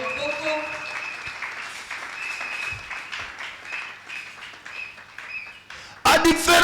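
A church congregation at a Sunday service applauds in praise, a soft sustained patter running under a voice and ringing tones, then bursting into loud, close clapping at the very end.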